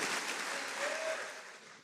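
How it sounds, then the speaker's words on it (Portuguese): Church congregation applauding during a sermon, a soft, distant, even wash of clapping that fades toward the end, with a faint tonal sound briefly running through it. "Se é para aplaudir, então faça com vontade."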